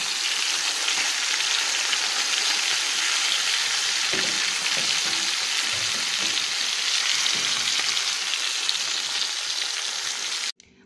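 Mackerel fish frying in a pan, a loud, steady oil sizzle with continuous crackle that holds without pause until it cuts off near the end.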